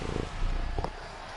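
A domestic cat purrs close by with soft, rumbling pulses, a brief low throb that holds steady for about a second.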